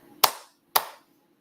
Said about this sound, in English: last fluid clap